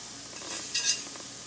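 Butter sizzles and hisses on a hot sizzling plate for sisig. A soft, steady frying hiss swells briefly as if stirred, close up, with no one talking.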